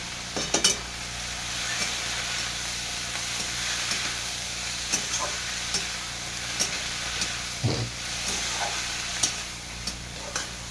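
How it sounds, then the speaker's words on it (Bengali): Masala with grated ginger and salt being sautéed in a pan for veg momo filling, a steady sizzle with repeated scraping stirs and spoon taps scattered throughout. "স্বাদ মতন লবণ দিয়ে দেবো এটাকে মশলাটাকে কষে নেব"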